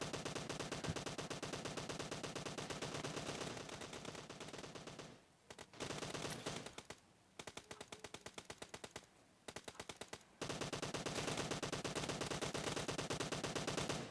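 Automatic gunfire in the video game PUBG: rapid, dense bursts of shots rattling loudly, broken by brief pauses and shorter volleys before a final sustained burst.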